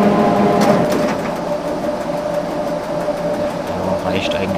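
A WVB tram rolls along in the OMSI 2 simulator game, a loud steady rumbling drone with a low motor hum and faint track clatter, while someone talks over it.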